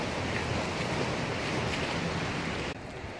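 Sea waves wash steadily onto a stone-lined Mediterranean coast, a continuous broadband surf roar with some wind buffeting the microphone, loud and close, dropping slightly in level near the end, with no voices.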